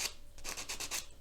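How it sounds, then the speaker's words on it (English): A nail file scrapes glue off press-on nails in quick, short rasping strokes, about six close, soft rubs in a brisk rhythm. "filing just to get that glue off of there"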